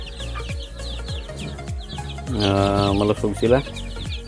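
Young chicks at about ten days old peep and cheep in a busy cluster close by, with a burst of louder chirping near the middle, under a person's talk.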